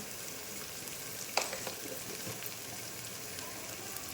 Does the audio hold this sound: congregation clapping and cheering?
no